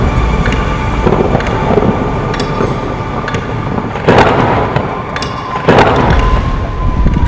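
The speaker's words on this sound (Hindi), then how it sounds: "बादल लगातार गरज रहे हैं" Thunder rolling on a mountain trek in stormy weather, with strong wind buffeting the microphone throughout and several louder rumbling bursts rising out of the constant roar.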